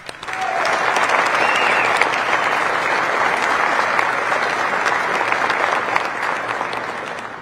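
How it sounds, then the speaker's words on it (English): Loud, sustained audience applause at a Space Force change of command ceremony, a dense, even wash of many hands clapping that starts abruptly and holds steady before easing slightly at the end. "So let's have a round of applause for these incredible work these men and women in the SPOC are doing."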